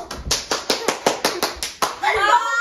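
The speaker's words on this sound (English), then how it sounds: "Repeating siblings clap patterns." Children clap out a hand clap pattern, about nine sharp close claps in a steady rhythm with a short pause before the last, then a voice rises at the end.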